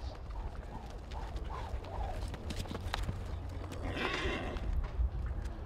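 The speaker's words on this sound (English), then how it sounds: "This is a 5-year-old gelding they call Rocky." A five-year-old gelding heel horse moves in a rope horse futurity arena with faint hoof sounds and a brief whinny-like call, over steady low background rumble and distant crowd noise.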